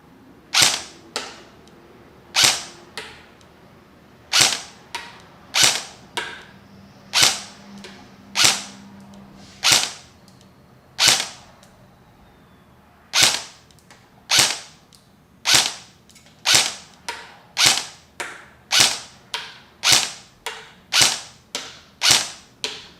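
A KWA VM4 X-10 airsoft AEG rifle fires about thirty sharp, close, loud shots alone, some spaced apart and some in quick pairs or runs.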